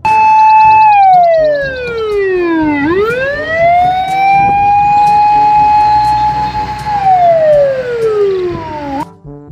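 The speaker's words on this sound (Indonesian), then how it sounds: "Mobil truk pemadam" A loud toy fire truck siren wails close by, its pitch sliding down, sweeping back up, holding high, then falling again in a long slow cycle.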